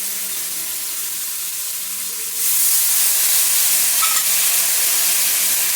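Tomato paste hits frying spice masala in a pan and breaks into a loud, bright sizzling hiss that jumps up partway through and holds steady after a quieter cooking murmur.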